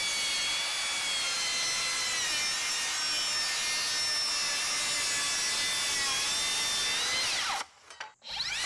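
Makita 36V 7-1/4 inch circular saw ripping through wood, a loud continuous high whine with shifting blade tones held for over seven seconds before spinning down.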